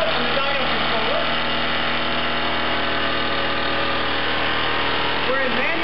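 A Focus Applied desktop dyno runs at high speed with no load, giving a steady, even mechanical whine and hum throughout, with a voice speaking over it.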